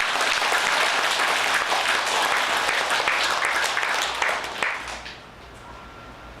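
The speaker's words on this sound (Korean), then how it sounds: "이해가 됐으면 박수를 한번 쳐야죠." A Buddhist dharma-hall congregation claps loudly together for about four seconds. The clapping then tapers off into quiet room tone.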